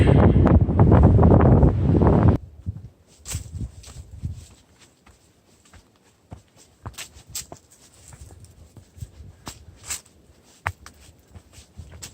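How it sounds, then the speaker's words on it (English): Strong wind buffets the microphone on a mountain ridge near Green Knob summit in the Black Mountains, about 5,060 feet, in a loud roar for a couple of seconds, then gusts drop to fitful bursts with rustling and faint steps. "it's getting windy up here"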